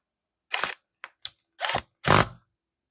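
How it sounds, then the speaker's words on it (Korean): Screws being driven into a Galaxy Z Fold 7 phone during a hinge cable repair, heard as five short, close mechanical clicks and bursts at uneven intervals, the last two longer and louder, with no talking. "이제 나사를 두두두두두 끼워 볼게요"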